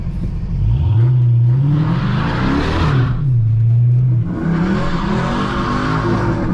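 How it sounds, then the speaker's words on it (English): A 700hp Mustang GT doing a burnout, its engine roaring and revving loud and close while the tires squeal in two long bursts with a short break between, no talking. "I'm gonna do a burnout, guys."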